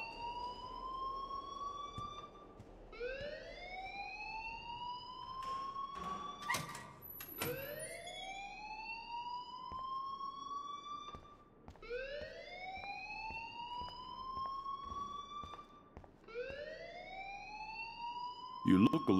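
A video game alarm whoops repeatedly, each rising electronic siren sweep lasting a couple of seconds and cycling in a steady pattern at moderate loudness.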